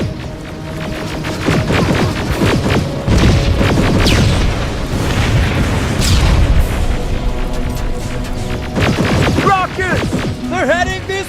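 Rocket explosions in the Terminator: Resistance video game boom and crash repeatedly, loud and close, with debris and rumbling between blasts under shouted voices.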